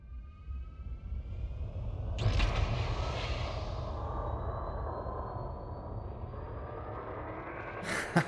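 A Sidewinder spaceship engine in Elite Dangerous hums with a steady low rumble, broken by a sharp rising whoosh of thrust partway through and another bright burst near the end.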